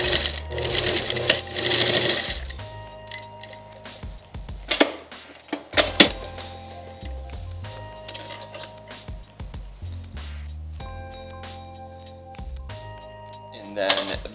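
Sewing machine stitching a tack into a 5-panel camp hat, with short bursts of rapid mechanical whirring separated by pauses, fabric handling and small clicks, loud and close.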